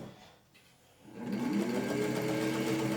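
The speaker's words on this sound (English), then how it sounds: "Just to show that the machine can go through several layers of marine vinyl without a problem." A Singer 15-91 sewing machine stitches through several layers of marine vinyl, a near, steady mechanical whir that starts up after a quiet second and holds an even rhythm.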